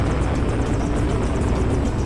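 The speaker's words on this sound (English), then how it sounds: "That's a really slow starting rocket." A slow-starting rocket launching in the Deus Ex game gives a steady, loud roaring rush that holds an even level throughout, with no talk over it.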